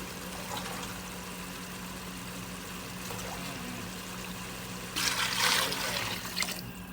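Water poured into rice in a cooking pot, measured at about one and a half glasses of water per kilo of rice; a steady low trickling wash swells into a brighter, louder splashing pour toward the end, with no talk.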